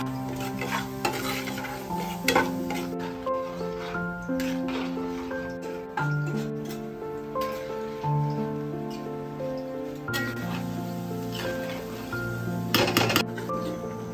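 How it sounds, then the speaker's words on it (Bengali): Fried spice paste is stirred into bhog khichuri in a pot, producing wet scraping and clatter against a soft, continuous sizzle, with tonal hum and music running underneath. "এখানে এখন মা কষানো মশলাটা খিচুড়ির মধ্যে মিশিয়ে দিচ্ছে।"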